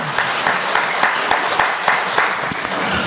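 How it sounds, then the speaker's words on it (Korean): A church congregation applauds to glorify God during a Sunday service, a dense wash of many hands clapping with a few sharper individual claps standing out. "하나님께 영광의 박수를 보내겠습니다"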